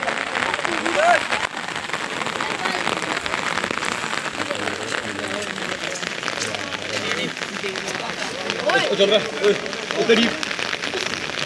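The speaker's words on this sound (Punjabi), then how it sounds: "ਮੌਸਮ ਬਹੁਤ ਹੋ ਰਿਹਾ ਖਰਾਬ ਹੋ ਦੇਖ ਸਕਦੇ ਹੋ ਤੇ ਮੀਂਹ ਲਗਾਤਾਰ ਪੈ ਰਿਹਾ" Steady rain falls continuously, a dense broadband patter that holds evenly throughout, with faint voices now and then beneath it.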